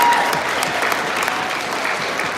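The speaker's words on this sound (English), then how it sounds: "Give them a round of applause again." Audience at a basketball senior night in a gym clapping loudly, a dense sustained wave of applause that tapers slightly while scattered crowd noise carries through.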